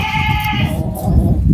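Goats bleat on a goat farm, with a sustained wavering bleat standing out near and loud over rustling farm noise.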